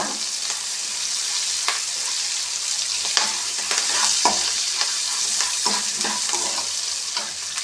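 Chopped onions sizzle steadily in hot oil in a pan while being stirred for vermicelli upma, with frequent sharp scrapes and clicks of the spoon over a continuous close frying hiss; no one speaks.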